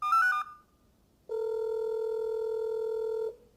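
Telephone dialing for a phone call: a quick run of several short keypad beeps, a pause, then one long steady ringback tone lasting about two seconds, clear and close with no voices.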